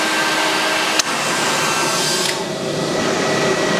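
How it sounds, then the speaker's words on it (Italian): Two cooling fans inside a Fossibot F3600 3600 W portable power station spin under a heavy load, producing a steady, loud whooshing whir with a faint tonal hum and one brief click near the start. "sentite le ventole, da questa parte sulla sinistra ci sono due ventole che girano"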